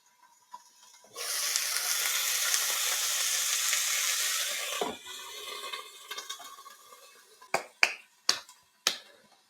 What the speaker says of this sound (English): I'm going to quickly sear both sides and then let it sit there and keep checking it.